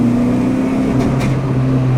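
Honda Civic engine idling high at about 2,500 RPM with the check engine light on, a loud steady droning hum close up, with a couple of brief hissy bursts partway through.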